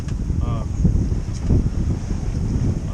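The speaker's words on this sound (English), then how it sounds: "There's still a lot of wind. A lot of wind swell." Strong wind buffets the microphone aboard a sailboat crossing the Santa Barbara Channel with wind swell on the beam, a loud steady rumble with gusting surges throughout.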